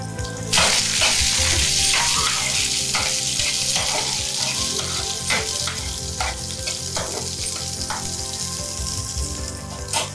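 Green chilies fry in a pan for ridge gourd chutney, giving a loud, close, continuous sizzle broken by repeated stirring scrapes, with no voices.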